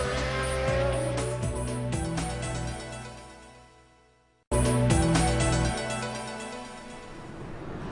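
Racing cars, including classic Formula One, hill climb and sports cars, power past on the Goodwood Festival of Speed hill climb, engines roaring loudly in two close passes with a brief gap between them.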